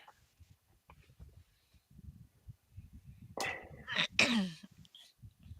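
A single sharp sneeze, close and fairly loud, with a quick intake of breath just before it and a few soft background sounds around it.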